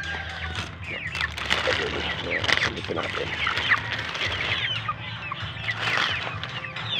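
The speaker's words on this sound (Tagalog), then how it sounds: "So ito naman yung aming mga manok. 45 days. 45 days manok." A flock of 45-day-old chickens clucks and squawks in a busy, overlapping chorus nearby, with a person speaking briefly over them.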